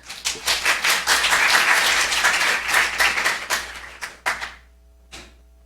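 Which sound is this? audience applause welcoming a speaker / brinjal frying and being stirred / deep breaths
audience applause welcoming a speaker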